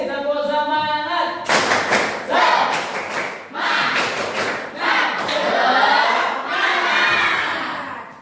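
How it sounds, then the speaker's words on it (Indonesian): One more round of the rhythmic 'tepuk semangat' spirit clap from a class at SMPN 1 Taman Krocok: patterned bursts of many hands clapping close by, with children chanting and shouting along after a teacher's cue. "Sekali lagi, tepuk semangat."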